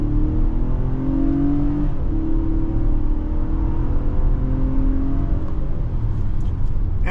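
A 2023 Infiniti QX60 Pure AWD accelerates hard with a loud, close engine drone. The rising pitch drops at each gear shift, then climbs again.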